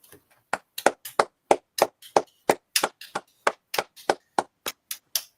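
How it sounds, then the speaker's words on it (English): Sparse, slow clapping from a handful of hands in a quiet room, each clap distinct and evenly spaced over several seconds, celebrating the women's rugby world champions. "So 5-second round of applause for the rugby team."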